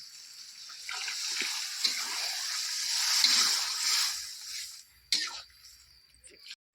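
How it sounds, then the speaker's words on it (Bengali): Boiled-pea cooking water is poured into a pan of ghugni with spiced boiled peas, making a close, steady gushing splash for several seconds that tapers off, followed by a sharp knock. "এবার আমি জলটা দিয়ে দেবো।"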